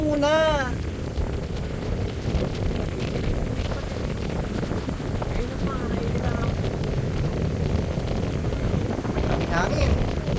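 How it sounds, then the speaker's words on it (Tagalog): Strong wind roars and buffets the microphone continuously, with a person talking and short whistling or rising tones cutting through now and then. "Sobrang hangin"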